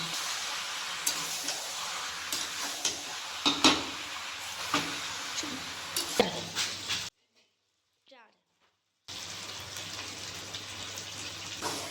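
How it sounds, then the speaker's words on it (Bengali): Chicken with onion, chilli and turmeric being stirred in a pot over a charcoal fire, with steady scraping, wet sloshing and occasional clinks close by, broken by a couple of seconds of near silence before the stirring resumes. "এবার আমি আবার ভালো করে নেড়ে চেড়ে দিব"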